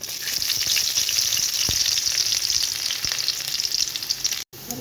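Mustard seeds, urad dal, dried chillies and crushed skin-on garlic fry in hot oil for a tempering, giving a loud, steady, close sizzle with scattered pops that drops out for an instant near the end.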